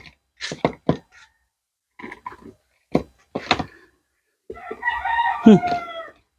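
Chickens on a quail farm cluck in short loud bursts, then a rooster crows near the end, with scattered pauses between calls and no talk.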